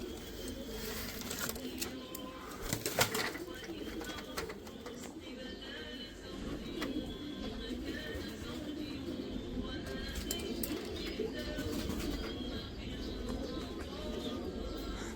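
Pigeons coo in soft, low, repeated murmurs amid background rustling and occasional clatter, with someone talking quietly at times.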